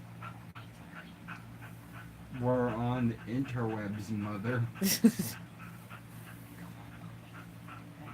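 A pet dog whimpers and whines indoors in a few brief, rising bursts in the middle of the stretch, mixed in with a person talking in a home.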